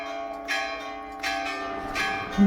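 Temple bells ring during evening aarti in Mathura: three bright metallic strikes about three-quarters of a second apart sound over a steady, shimmering ringing drone, with no voices.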